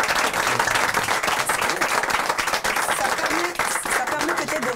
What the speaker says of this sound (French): Mais pourquoi ne pas les applaudir